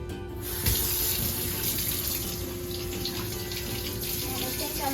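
A kitchen sink tap runs steadily while fish is washed under it: a continuous, close rush of flowing water from start to finish.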